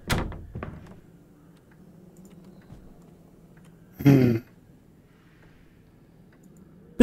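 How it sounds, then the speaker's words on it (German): A door creaks and thuds open in The Black Within horror game, one broadband burst midway after a sharp knock at the start, over a quiet low room hum with another brief hit at the end. "Hörst du auf, die Tür aufzumachen?"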